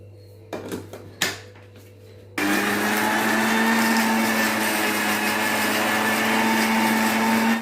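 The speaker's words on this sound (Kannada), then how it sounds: "ಇದೆಲ್ಲ ಗ್ರೈಂಡ್ ಮಾಡ್ಕೊಳ್ಳೋಣ." Mixer grinder whirring loudly and steadily as it grinds ginger, garlic, tomato, mint, coriander and chillies, starting abruptly after a few short clatters and knocks and running continuously to the end.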